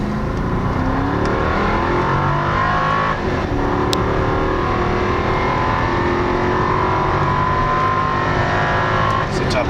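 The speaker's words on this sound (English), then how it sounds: "full throttle" A 2008 Cadillac SRX with a Northstar V8 accelerates hard at full throttle, its engine drone steady and loud throughout, with rising tonal bands as it pulls through the gears and some road noise.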